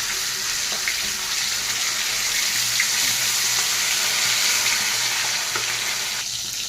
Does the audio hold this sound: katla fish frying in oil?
yes